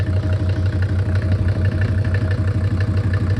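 A SsangYong OM662 2.9-litre diesel engine idles steadily and close by, a low, even rumble with a light mechanical clatter running through it and no talk.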